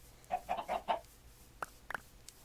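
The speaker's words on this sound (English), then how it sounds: "Ooh, look at all these chickens and eggs and stuff." Chickens clucking in a village life video game, a quick run of four soft clucks followed by a few sharper, brief clucks against a quiet low hum.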